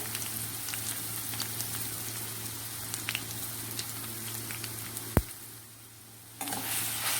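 Ginger, chili and garlic paste sizzles in a pan of Gujarati kadhi, a steady crackling fry with a few faint clinks, then briefly dropping quieter before the sizzle returns loud.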